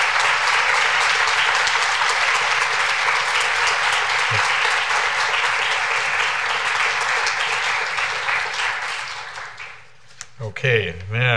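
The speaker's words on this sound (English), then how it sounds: "let me ask all of you to join me in a round of applause for all of our debaters" Sustained audience applause after a medical school debate, loud and dense for about ten seconds before tapering off, with voices and shuffling emerging at the close.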